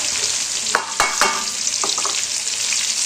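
Garlic frying in hot mustard oil, a loud crackling sizzle with a few sharp spatula scrapes and knocks against the pan.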